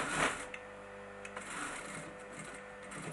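Sewing machine running steadily, stitching a lightweight voile net curtain; a continuous close mechanical whir with a fast even rhythm and a few small clicks, no talking.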